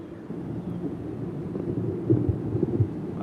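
Thunder from a storm in South Florida rolls as a low, steady rumble with a couple of slightly louder swells, with no talking.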